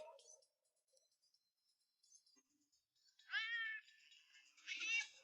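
Two meows from a cartoon cat in a French children's cartoon, heard in a quiet indoor scene after faint sounds. Each meow is short and fairly loud with a wavering pitch, and the second comes about a second after the first.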